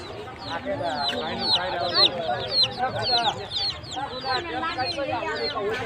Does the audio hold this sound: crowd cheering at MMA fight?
no